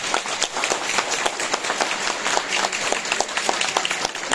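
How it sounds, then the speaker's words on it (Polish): An audience at an autumn folk singing event in a village applauds a women's folk group, giving steady, dense, loud clapping throughout with no voices over it. "to jest dobry moment, żeby pierwsze brawa dzisiaj dziewczyny otrzymać"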